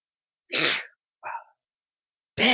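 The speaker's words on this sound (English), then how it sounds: "did you just sneeze inside your shirt?" A person sneezes into their shirt during a public board meeting: a loud, muffled burst, then a softer short sound, and another strong burst at the end, with silence between and no talking.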